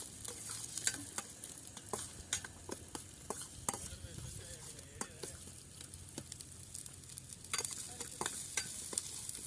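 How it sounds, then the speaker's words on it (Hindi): Onions fry in hot oil at an outdoor riverside campsite, a soft continuous sizzle broken by frequent clicks and scrapes of stirring; quiet, with no talking. "तेल गरम होने के बाद प्याज को फ्राई कर लेंगे थोड़ा।"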